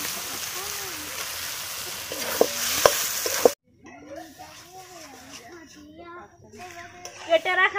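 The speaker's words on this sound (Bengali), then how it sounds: "এবার আমি মাংস দিয়ে দেব।" Meat goes into hot oil with spices and salt that have already been fried down, and it sizzles and crackles loudly while being stirred, with a few sharp clinks. The frying drops away midway, and a person talks over quieter cooking noise after that.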